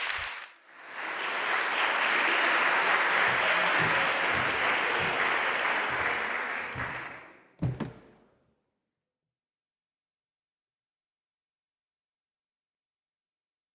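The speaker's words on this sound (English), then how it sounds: "An applause for him." A conference audience at a university event in Padua gives a loud, sustained round of applause lasting several seconds, ending with a single sharp knock before silence.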